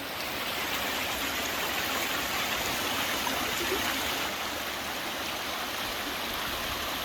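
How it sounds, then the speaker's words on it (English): Three mountain streams merging into one as they run downhill along the backroads of Whitwell, Tennessee, giving a steady broadband rush of flowing water, close and constant throughout with no talking. "So like 3 streams running into one going down the mountains."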